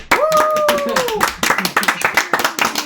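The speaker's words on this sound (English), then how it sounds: "Let's just clap for Yes. Mrs. Meddy" A class claps for Mrs. Meddy at a poetry event. A voice rises and falls over the opening second before quick, uneven hand claps from a small group take over, ending in scattered distinct claps.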